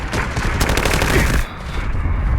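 Rapid bursts of automatic gunfire from the video game Delta Force crackle loudly and continuously, with a brief dip in intensity partway through before the firing resumes.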